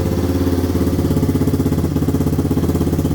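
A 1953 Pontiac Strato Chief engine idles with a steady, even mechanical rumble and a fine rhythmic pulse, loud and close, while someone speaks briefly over it.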